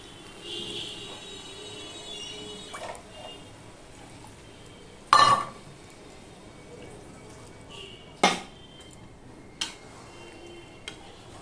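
A bowl is rinsed and filled with water while cooking dalia at home: three sharp clinks spaced a few seconds apart ring out over a quiet kitchen, with faint drips and soft handling sounds in between.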